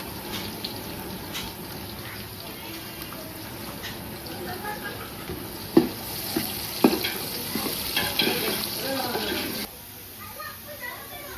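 Spices frying with salt and turmeric in a pan, a soft continuous sizzle with stirring and a couple of clinks against the pan, under a faint hum, with talk nearby.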